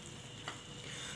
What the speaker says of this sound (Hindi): थोड़ा थोड़ा सा खोया डाल के मैं इसको पका लेती हूँ।